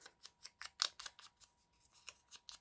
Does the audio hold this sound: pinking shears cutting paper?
yes